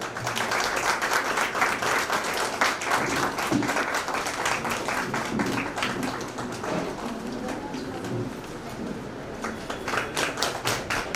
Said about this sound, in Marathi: टाळ्या थांबल्या नाही पाहिजेत